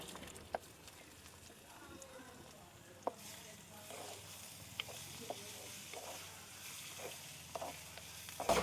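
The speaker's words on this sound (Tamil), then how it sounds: "இப்போ வெங்காயம் வந்து நல்லா வதங்கட்டும்." Chopped onions sautéing in a pan for paneer butter masala, a soft steady sizzle with occasional light clicks and scrapes of stirring, fairly quiet and close, with no talk over it.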